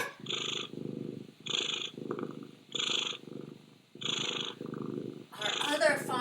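A voice imitates a contented cat's purr: rhythmic, breathy rumbling pulses that rise and fall about once a second, close and clear, ending in a brief burst of louder voiced sound.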